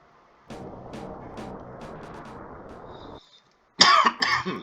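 A few loud, harsh coughs come in a quick burst after a stretch of steady low background noise and a brief silence.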